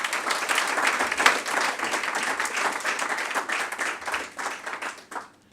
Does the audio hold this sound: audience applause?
yes